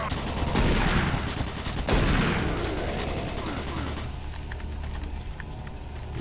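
Automated turret guns in Doom 3 fire a dense burst of rapid shots, loud and close, the barrage starting strong then continuing more thinly over a steady low hum.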